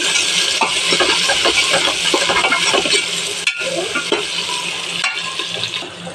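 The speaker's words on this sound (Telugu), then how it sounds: "టమాటాలు కూడా బాగా ఫ్రై అయిపోవాలండి" Onions and tomatoes fry in a pan for chicken dum biryani, a steady loud sizzle with frequent stirring scrapes and brief pauses, no talk.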